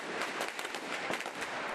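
Thousands of firecrackers explode in a dense, continuous crackling barrage at an Easter Sunday procession of petards in Cúllar Vega, Granada, loud and unbroken with no gaps.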